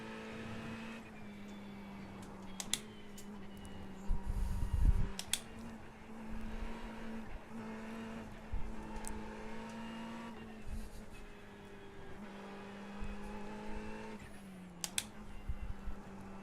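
Race car engine droning steadily in iRacing at Circuit of the Americas during an IMSA race, pitch dipping under braking with brief scrubbing bursts and faint tire noise around mid-lap, alone without voices.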